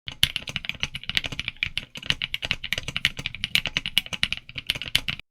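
Rapid, crisp clacking of an MKC75 custom aluminum mechanical keyboard with a PCB sheet installed, typed on steadily, close up and alone.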